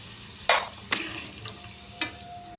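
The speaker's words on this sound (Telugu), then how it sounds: "కొద్దిగా పసుపు వేసుకొని సారికందను ఫ్రై చేసుకుందాం" Pieces of elephant foot yam fry in oil with turmeric. A soft continuous sizzle is broken by several sharp splashy bursts as the pieces are stirred or turned.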